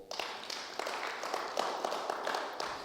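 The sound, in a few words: audience applause, clapping for Jesus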